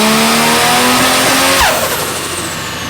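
A Mazda RX-7 FD with an LS engine swap revs hard under load on a dyno, a loud continuous mid-pitched engine roar climbing steadily, then easing off slightly near the end.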